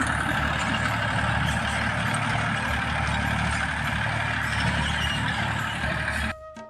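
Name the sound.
tractor engine running in a field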